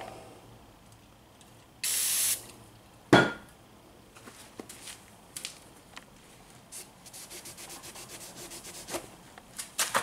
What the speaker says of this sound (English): And then spray some brake clean.